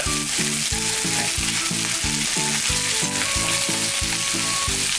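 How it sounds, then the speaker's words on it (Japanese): Onions frying in a pan, a steady loud sizzle with a regular rhythmic stirring or clacking pattern repeating throughout, no talk. "はい、でここで、玉ねぎが透き通るまで炒めていきます。"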